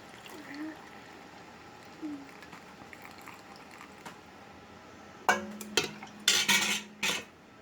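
Pickle mixture poured through a funnel into a jar. A quiet stretch comes first, then a short run of clinks and splashy gurgling near the end.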